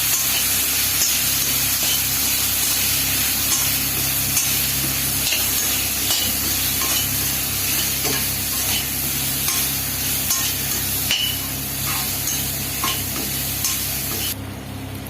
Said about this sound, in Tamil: கறி ஆட் பண்ணிக்கலாம் ஆட் பண்ணி நல்லா வணக்கலாம்